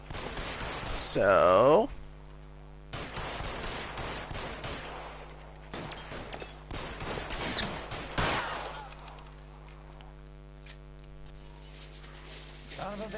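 Gunfire in the 1940s crime game L.A. Noire, a loud burst of shots near the start followed by scattered further bangs under game music and someone talking.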